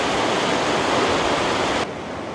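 Water rushing along Clear Creek in a canyon, heard from a bridge above as a steady, loud broadband roar that continues unbroken and drops slightly in level near the end, with no voices.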